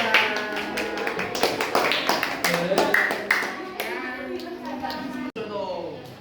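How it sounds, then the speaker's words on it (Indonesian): Classroom group clapping for a student team after their presentation on weather and emotions, a few scattered claps and taps rising into brief applause, with children's voices talking over it throughout. "tepuk tangan buat kelompok 2"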